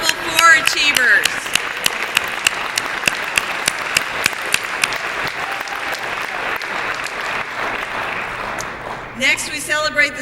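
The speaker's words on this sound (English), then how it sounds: "Let's give a round of applause to all Level 4 achievers." A banquet-hall audience at an awards ceremony breaks into sustained applause, dense clapping from many hands that holds steady for several seconds before tapering, with a voice briefly heard near the end.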